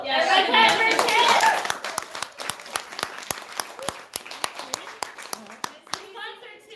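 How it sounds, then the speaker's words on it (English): Small gathering at a monthly training meeting breaks into applause, starting with a dense burst mixed with cheering voices, then thinning to a handful of separate, irregular hand claps. "Everybody clap for Tiff"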